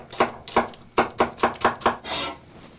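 Knife chopping peeled red onions on a cutting board, seven close, crisp, evenly spaced blade strikes in a steady rhythm, followed by a brief scraping sweep.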